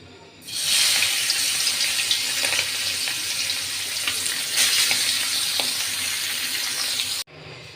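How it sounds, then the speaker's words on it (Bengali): A fish head drops into hot oil in a pan and erupts into a loud, bright, continuous sizzle that holds steady at close range before cutting off abruptly near the end. "তেলটা আমার গরম হয়ে গেছে, এখন আমি মাছের মাথাটা দিয়ে দিব।"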